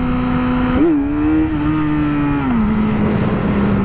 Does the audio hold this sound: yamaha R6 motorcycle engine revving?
yes